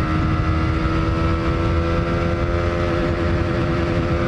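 A Honda Winner X motorcycle engine held at its 10,500 RPM limit, a loud, steady, high-pitched buzzing roar close by that stays constant without letting off.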